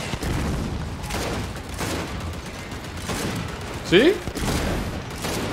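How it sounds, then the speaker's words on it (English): Gunfire and a grenade blast in a Gears 5 firefight, a steady stream of distant shots with a sharper explosion burst near the end, under brief talk. "Someone shot the fucking grenade."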